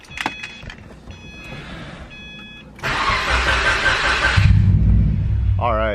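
A Subaru WRX engine, apparently short of fuel, cranks briefly after a few electronic chimes and whirs, then catches into a loud, rough rumbling idle close by.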